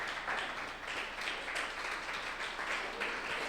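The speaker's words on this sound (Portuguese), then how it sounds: "Vamos aplaudir." A church congregation applauds during a sermon, a moderate, steady patter of many hands clapping with a slight rhythmic pulse, heard at some distance and without speech.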